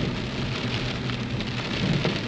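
Steady, heavy rain pours down without pause, a dense hiss of drops striking surfaces, with a low rumble underneath and no voices.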